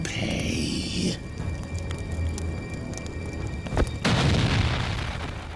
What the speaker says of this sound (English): Wow, exploding pumpkins